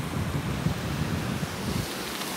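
Steady rushing water from a river beside a roadside camp in Chile, a continuous broadband roar with no breaks, close and fairly loud, with some wind buffeting the microphone.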